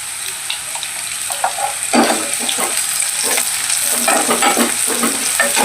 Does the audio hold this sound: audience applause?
no